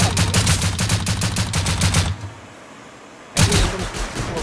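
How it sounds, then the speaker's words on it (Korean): Rapid bursts of gunfire and explosions from the video game Rust crackle loudly in a dense rattling run, break off into near silence for about a second, then erupt again just as hard. "아, 하나 터지면 다 터져요"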